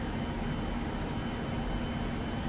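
A MiG-29A jet engine drones steadily in flight after being throttled back slightly, a continuous broadband roar at an even level throughout, with no talking.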